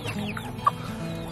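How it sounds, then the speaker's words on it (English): A blue wheaten Ameraucana hen gives a single short cluck over a low steady background hum, with no voices. "This is a blue wheaten Americana."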